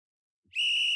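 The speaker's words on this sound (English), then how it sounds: "If they do not answer the question within 2 minutes, you'll hear this whistle." A single sharp, high whistle blast cuts in abruptly after silence and holds steady and loud, used to signal that a two-minute answer limit has run out.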